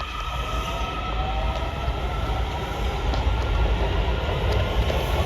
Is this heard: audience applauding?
no